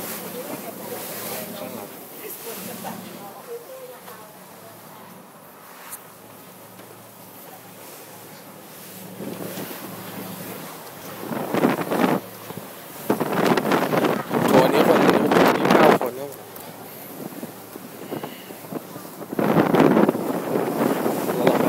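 Strong wind buffets the microphone on a cruise boat in the Bosphorus strait, rising into loud roaring gusts toward the end, with people talking under it early on.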